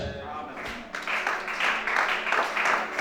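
A church congregation breaks into applause after a short stretch of preaching, and the clapping swells and holds steady, close and lively, to the end.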